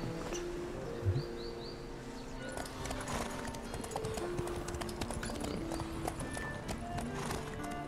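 Horse hooves galloping during a horse race in the video game The Witcher 3, a steady rapid clip-clop of hoofbeats with a brief neigh early on, birds chirping in the background and speech under it.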